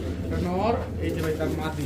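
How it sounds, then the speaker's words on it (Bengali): Rajshahi genda pigeons coo softly and close by, a brief low murmuring under a voice as he talks. "রাজশাহীর গেন্দা কবুতর"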